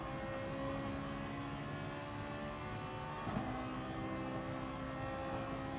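Ferrari and Lexus race cars drive at Laguna Seca in a racing video game, their engines giving a steady, sustained drone with a brief surge midway, with no talk over it.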